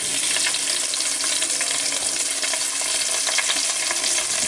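Onions and mushrooms fry over low heat in a pan for chicken with olives, a steady dense sizzle that carries on evenly and loudly throughout, close by with a few faint stirring scrapes.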